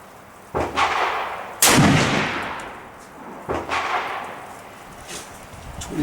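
7mm PRC rifle fired at a shooting range, a few sharp outdoor cracks spaced over several seconds, each with a short rolling echo trailing off.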